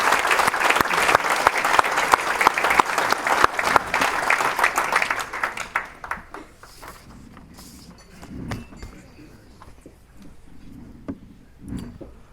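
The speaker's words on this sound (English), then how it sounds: "let's give a round of applause for our Birdie Boys player, Mark Jampa." Loud, dense applause from a crowd at a golf hall of fame induction ceremony fills the first several seconds, then thins out into scattered claps and a few quieter noises.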